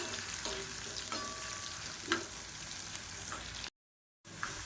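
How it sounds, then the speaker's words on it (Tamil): Chopped shallots and garlic fry in oil in a pan, a constant close crackling sizzle with occasional stirring clinks, alone without talk, briefly cut by a gap of silence. "இந்த வெங்காயம் பூண்டு நல்லா அப்படியே மொறு மொறுன்னு வதங்கணும்"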